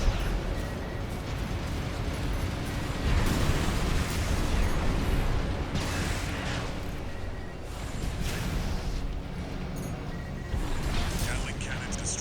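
Heavy, continuous explosive rumble and bursts from destroyed Gatling cannons in the mech combat game Armored Core VI, loud and sustained with mechanical whooshes layered through the whole stretch.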